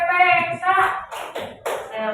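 Hand claps break in rhythmically in a primary school classroom during the Tepuk PPK clapping routine, sharp bursts mixed with children's chanting voices.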